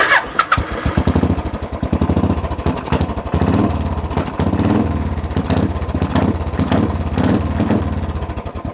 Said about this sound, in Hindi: एक बार स्टार्ट करके देखना ही चाहूँगा